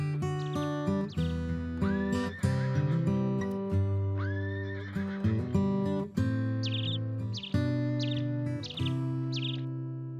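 Horses whinnying repeatedly over steady music, the neighs rising and falling in several clear calls while the horses are exercised on trails.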